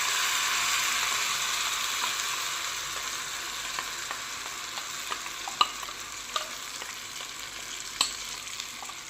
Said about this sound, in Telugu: ఇప్పుడు ఇందులో ఇందాక మనం మిక్సీకి పట్టుకున్న ఈ మామిడికాయ పేస్ట్ వేసుకుందాం.